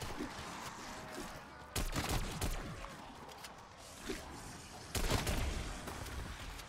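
Bursts of gunfire from a gun in Call of Duty: Cold War Zombies, with two heavy volleys over a continuous rumble of game sound, loud and close.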